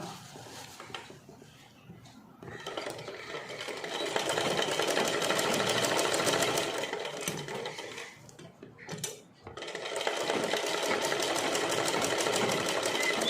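Sewing machine stitching pleats on a pattu pavada, close rapid whirring in two long runs separated by a brief pause, with no talk.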